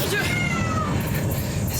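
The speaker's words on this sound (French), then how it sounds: "C'est rien, c'était un chat" A cat meows in a Castlevania game, a short wavering cry near the start with a fainter drawn-out mew following, over a low background rumble.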